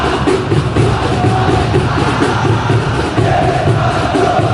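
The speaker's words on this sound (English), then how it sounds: "Crowd appreciates good football all round there." A stadium crowd in the eFootball PES football game roars and yells continuously, loud and dense, with swelling cheers and no commentary over it.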